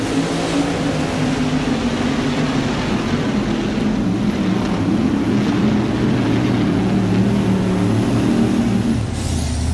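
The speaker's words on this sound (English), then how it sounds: "Getting that extra horsepower off that Arius engine as he makes his run here." A twin-turbocharged Arius-engine 2WD pulling truck makes its run at a 1993 NFMS pull in Louisville, Kentucky, a loud, continuous engine roar with a steady turbo whine that holds throughout.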